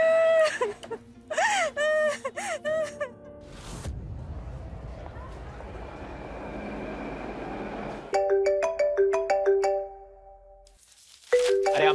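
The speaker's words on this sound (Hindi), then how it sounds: "अरे अम्मा, फोन बज रहा है तुम्हारा," A mobile phone ringtone plays a bright, steady electronic melody for a couple of seconds near the end. Before it come a crying, wailing voice and a stretch of rushing noise.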